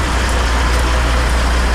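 Caterpillar diesel engine of a truck tractor idling close by, a steady deep low rumble with constant loudness and no voices.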